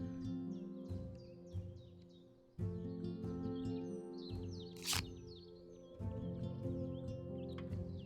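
Northern bobwhite in Wingspan, repeated bright whistled chirps over a steady tonal hum of game music, with a sharp crackling burst midway.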